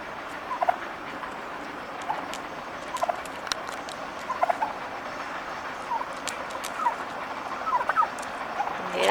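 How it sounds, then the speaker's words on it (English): Five male wild turkeys gather in a park on a morning, sending out repeated gobbles at moderate distance over a steady low background rumble, with no talk. "We have all 5 of the male wild turkeys here this morning."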